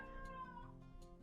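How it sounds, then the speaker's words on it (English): A cat outside a door meows plaintively, a couple of drawn-out, faint cries in a quiet room, wanting to be let in. "Please excuse my cat, he's desperate to come in,"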